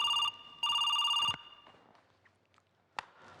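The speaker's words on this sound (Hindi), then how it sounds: "लैंडलाइन पे फोन आ रहा है।" A landline telephone rings in two electronic bursts, the second longer than the first. The ringing then stops and faint room sounds follow.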